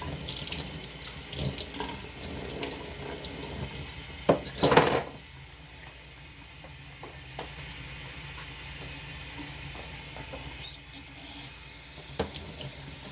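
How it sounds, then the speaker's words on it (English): Tap water runs steadily into a sink while soap is rinsed off trumpet parts, with brief clinks of metal pieces knocking against the basin. "Now I'm going to use some water to just kind of rinse that soap off."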